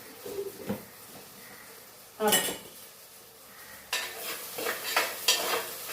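Onion and tomato fry in coconut oil, sizzling softly while a metal spoon clinks and scrapes against the pan in a few bursts, with a voice speaking faintly in between.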